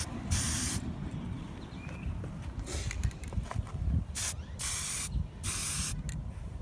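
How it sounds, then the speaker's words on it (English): Bursts of hissing spray from an aerosol can painting a car, several short and long blasts with brief pauses between, close and steady against a low background rumble. "It's a deep one, spray a little bit more."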